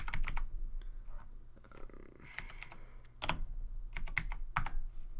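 A computer keyboard is typed on in uneven bursts of sharp, close clicks, with short pauses between clusters of keystrokes.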